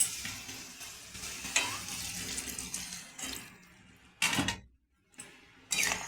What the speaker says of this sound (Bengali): দিয়ে ভালো করে নাড়াচাড়া করবো।